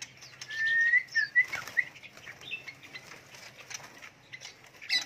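Songbirds such as magpie-robins kept in cages chirp in thin, high calls while wings flutter in short bursts, fairly faint and close, with no voices.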